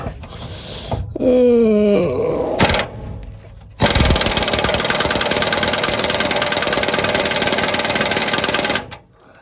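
An impact wrench hammers at a seized nut on a trailer axle during an axle replacement, starting after a rising whine and then rattling loud and steady for about five seconds before stopping, close up with no talking.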